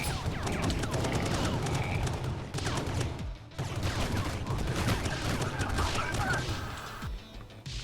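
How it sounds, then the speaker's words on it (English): Gunfire from a gun in the Hypergun video game, rapid and loud, a dense run of overlapping shots with two short gaps and a final burst. "I wonder if there's other stuff that determines gun noise"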